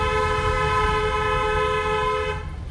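A car horn sounds one long steady honk lasting over two seconds, loud and close, then cuts off, with no talking.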